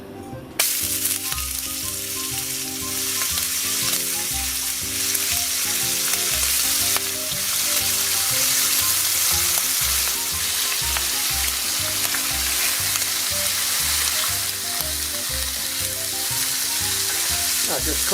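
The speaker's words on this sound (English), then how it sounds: "Get a frying pan, put some oil in, heat it up, and then chuck in some bacon." Bacon crackles and sizzles steadily in hot oil in a frying pan, a loud continuous fry with dense popping and occasional stirring clatter throughout.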